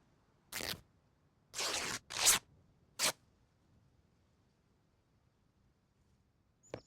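Four short crisp cutting or tearing bursts as an undershirt is cut into rags in a video game, brief and spaced, in otherwise near silence, followed by one faint click at the end.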